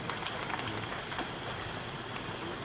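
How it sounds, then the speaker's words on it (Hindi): Applause at an award ceremony honoring local achievers, dense and continuous like heavy rain, a close wash of clapping with no distinct individual claps or voices. "कृपया तालियों के साथ स्वागत करें।"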